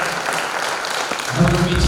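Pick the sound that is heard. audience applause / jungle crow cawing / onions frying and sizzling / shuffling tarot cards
audience applause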